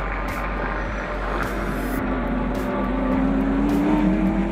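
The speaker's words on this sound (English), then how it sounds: "What that means is that the throttle blips automatically on the downshift." Ford GT GT3 race car with a Yates V8 engine, droning steadily under a continuous exhaust note with several short sharp bursts that fit automatic throttle blips on downshifts, close and fairly loud throughout.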